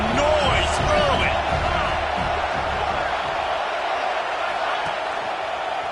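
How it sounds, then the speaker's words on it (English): A stadium crowd at a football game roars in a constant wash of noise, loud and steady, with a voice talking faintly beneath it. "This crowd bringing the energy and noise early."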